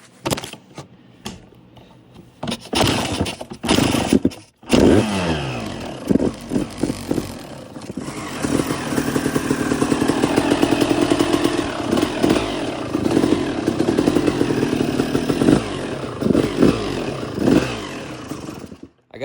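A 2002 Suzuki RM250 two-stroke dirt bike fires up for the first time after restoration, running slightly rich on choke with a crackling, buzzing idle, some sharp revs at first then a steady loud rattling run close by.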